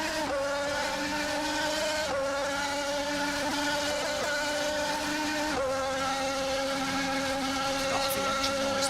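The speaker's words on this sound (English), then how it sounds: "the engine noise there, beautiful sound on our drone cameras" A high, buzzing race car engine whines continuously at a distance, its pitch dipping and rising as it shifts gears.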